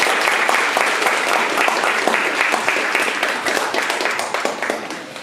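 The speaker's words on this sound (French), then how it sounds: "Applaudissez le comte d'Orbach!" Theatre audience at the Glob Théâtre in Bordeaux applauding a character, the comte d'Orbach, a full, dense round of clapping close and loud that gradually thins toward the end, with no talk over it.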